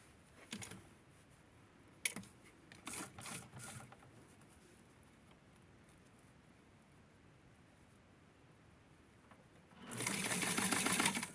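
A sewing machine stitches a custom gold Barbie doll dress: scattered close clicks and handling taps early on, a long quiet pause, then a loud, steady mechanical whir as the machine runs continuously to the end.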